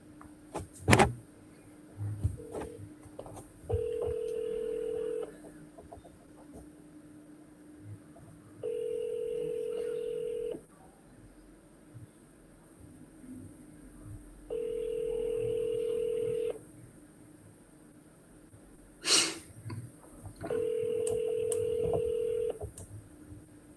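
A phone dials out on a call, with a quick burst of keypad tones followed by four long, evenly spaced ringback tones. A few soft clicks and knocks fall between the rings.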